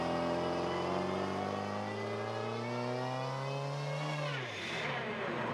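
Twin-supercharged Toyota FRS with a custom install, its engine revving with rising supercharger whine that climbs steadily, then a sharp blow-off valve release near the end as the pitch drops away; loud and close, no talking.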